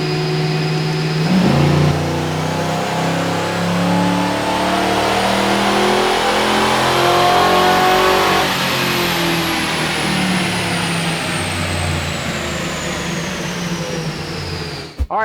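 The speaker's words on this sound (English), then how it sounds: "So we're gonna make a dyno run right now." A Ford Crown Victoria Police Interceptor engine revs on a dyno, climbing loud and steady through the gears with rising pitch before cutting off sharply at the end, no voices.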